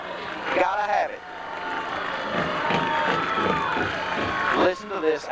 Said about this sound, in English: Listen to this Ashdown Panthers sellout crowd right here.